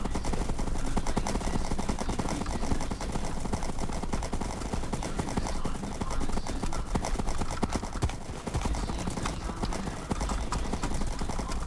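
Horse hooves clip-clopping in the Minecraft video game, a dense, continuous patter of game sound effects that keeps up steadily with no speech.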